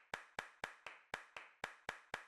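Characters in the video game Jump Force clap as an emote, giving nine sharp, evenly spaced claps in a steady quick rhythm, faint and alone.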